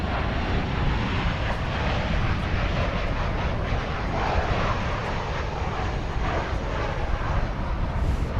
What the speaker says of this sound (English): It's our first look at Alaska Airlines this afternoon.